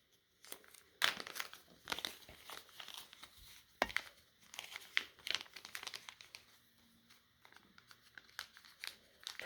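A plastic bag crinkles and rustles close up as it is opened and handled during a WW2 militaria unboxing, with irregular sharp crackles and pauses between them.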